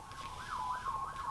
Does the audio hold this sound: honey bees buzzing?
no